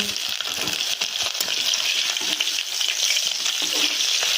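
Pieces of fish fry in hot oil after being flipped, a loud, continuous, crackling sizzle heard up close with dense popping and spitting throughout, no voices.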